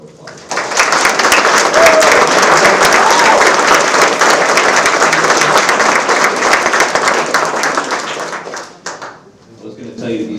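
A ceremony audience gives a sustained, loud round of applause for newly sworn-in police officers, with dense clapping lasting several seconds before fading out, and a few voices afterward.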